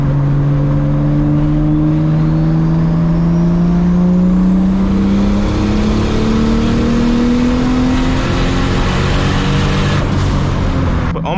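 A straight-piped Toyota Supra accelerates hard in 4th gear, its loud engine note climbing steadily in pitch for about ten seconds before cutting off near the end.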